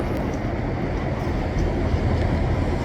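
Steady, dense rumble of a train running close by, a continuous low roar without pauses.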